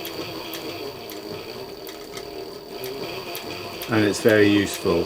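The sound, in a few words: sewing machine stitching leather wallet using edge guide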